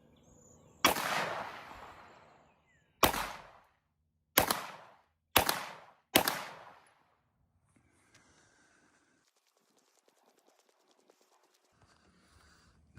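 Beretta M9A4 pistol fired at 25 yards outdoors, five sharp, loud shots spaced about one to two seconds apart, each with a short decaying echo, followed by quiet.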